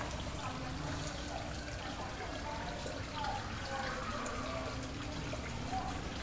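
Boiling water pours over Robusta coffee grounds for a second brewing pour, a soft continuous trickle, quiet and close, with faint background noise.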